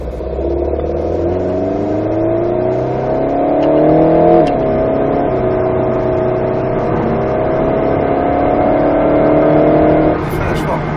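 An Alpine sports car accelerating on the Croix-en-Ternois circuit, its engine note climbing through gears with a shift midway, loud and close from inside, with people talking over it.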